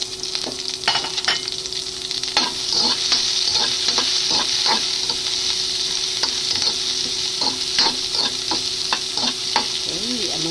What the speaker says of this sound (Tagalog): So, sasutay natin yung bawang sibuyas.